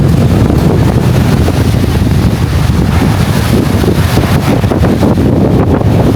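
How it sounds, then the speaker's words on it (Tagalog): Strong wind buffets the microphone in a steady roar at a lakeside, with water lapping beneath it and no voices. "malakas ang hangin, yung lagaslas ng tubig ang maririnig"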